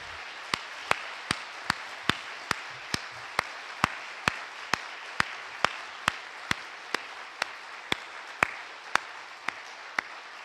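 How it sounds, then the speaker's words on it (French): An audience in a Collège de France lecture hall applauds a retiring professor with rhythmic clapping in unison, sharp evenly spaced claps repeating steadily about twice a second over a soft wash of crowd noise. "j'aimerais quand même d'abord que vous l'applaudissiez très fortement pour tout ce qu'il a apporté à ce collège"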